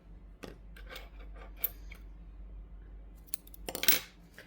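Scissors snip crochet yarn close by in a quiet room. Several soft, light cuts come first, then a sharper metallic snip near the end.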